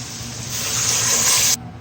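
Water pours from a tap into a cooking pot while making carrot pulao rice, a steady rushing, splashing fill that builds slightly and then cuts off abruptly.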